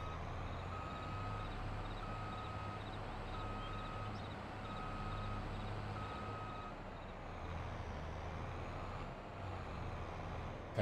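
Steady reversing beeps from a tractor in Farming Simulator 22, repeating evenly over a constant low engine drone throughout, with no talk.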